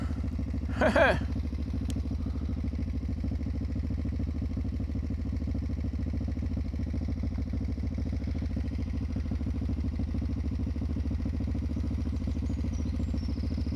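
A motorcycle engine idling steadily nearby on a sloping roadside stop in the Suisse Normande countryside, a constant low rumble throughout with a brief rattling clatter near the start.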